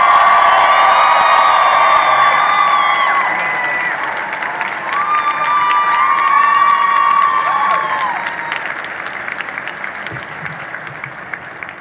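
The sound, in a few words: audience applauding and cheering for Dean Kamen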